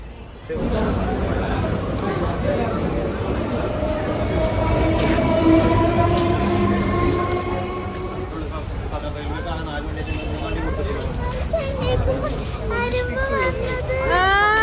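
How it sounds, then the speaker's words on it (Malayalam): A Chennai suburban train rumbles steadily along with wheel and carriage noise, while children chatter and call out nearby throughout. "ഞങ്ങൾ ആദ്യമായിട്ട് സബർബന് പോവാണ്"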